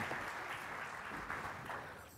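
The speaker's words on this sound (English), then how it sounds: "let's give him a round of applause" An audience at a conference main-stage session claps in a steady wash of applause that fades slightly at the end, with no voices heard.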